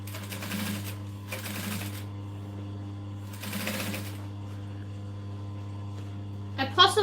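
A sewing machine top stitching a curved seam on a clutch bag runs in three short bursts separated by pauses, over a constant mains hum, with a brief clatter of handling near the end.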